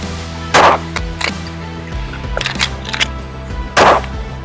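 A Shadow Systems CR920 pistol fires a few sharp, loud reports with uneven spacing, each shot cracking close by amid small handling clatter, with no talking.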